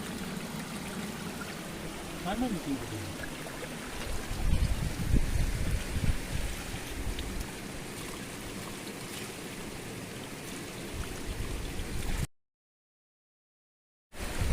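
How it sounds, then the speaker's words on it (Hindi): Steady running spring water from the ground trickles and gurgles continuously, very cold glacier water, with a brief splash and faint movement near the start, then cuts to silence before the end. "ये देखिए पानी, ये देखिए चश्मा, वो देखिए कहाँ से निकल रहा है ये"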